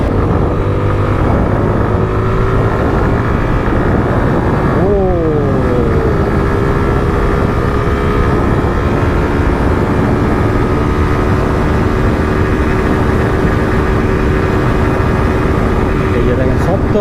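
A Suzuki Gixxer FI ABS motorcycle engine runs steadily while riding in third gear, a continuous loud drone with a shifting pitch near the middle, beneath heavy wind noise.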